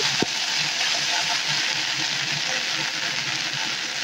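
Jute leaves hit hot oil with dried chilies and are stirred, giving a loud, steady, close sizzle that runs throughout, with a sharp knock near the start.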